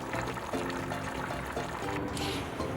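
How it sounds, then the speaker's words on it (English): Water pours steadily into a pot of stewed oxtail, a close, continuous splashing trickle with no talk over it. "then add enough water to cover"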